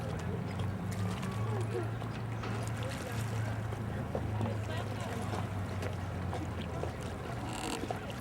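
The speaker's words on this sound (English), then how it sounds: "Aboard the excursion ship, the Spirit of Ethan Allen." Excursion ship Spirit of Ethan Allen cruising on a lake in light wind, a low steady engine hum and water wash beneath wind rumble, with people talking aboard.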